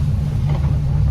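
Steady engine drone of a passenger ferry crossing to the Gili Islands, heard from the front seating area with the engine toward the back; a loud, continuous low rumble with faint air-conditioning hiss on top.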